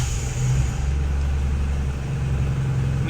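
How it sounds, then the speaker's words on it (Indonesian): A 1999 Isuzu Panther engine running at idle, a close, steady low diesel-like rumble with a pulsing throb that holds even throughout, with no talk over it. "Kita start engine-nya."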